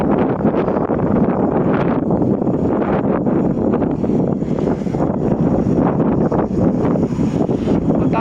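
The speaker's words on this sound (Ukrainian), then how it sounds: "Вітер, сильний вітер." Strong wind at a seaport roars and buffets the microphone without a break, a dense, rumbling rush with no voices.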